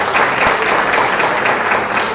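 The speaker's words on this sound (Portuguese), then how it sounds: "Palmas para ela." An audience applauds a participant at a Brazilian college lecture session, sustained, dense clapping filling the whole moment at steady loudness.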